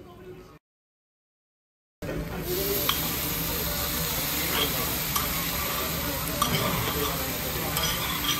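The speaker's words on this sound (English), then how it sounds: "After the veggies are decently cooked, this is my favorite part where they put all the cabbage together and they just make a big old ring" Monjayaki with cabbage and vegetables sizzling steadily on a hot Tokyo griddle, a close, continuous frying hiss with scraping and stirring clicks, after a brief silent gap at the start.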